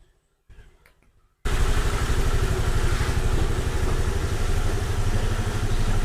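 A motorcycle engine, after an engine overhaul, idles steadily with a low, even rumble, starting abruptly after a brief quiet stretch with a few faint clicks.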